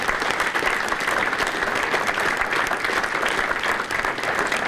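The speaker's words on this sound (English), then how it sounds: "let's give a round of applause for all of the inductees and awardees." Audience at a Nebraska Wesleyan athletic hall of fame ceremony applauding inductees and awardees, a steady sustained round of clapping from a room of people.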